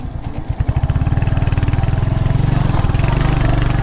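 A Royal Enfield motorcycle engine thumps in a steady, loud, close-up rhythm, settling from a few uneven pulses into a fast regular beat, with no voices over it.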